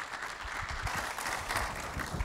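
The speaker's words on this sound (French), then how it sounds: "Sous vos applaudissements toujours, mesdames et messieurs" Audience applause at an economic sovereignty conference panel, a steady dense patter of many hands clapping throughout, fairly loud with no voices.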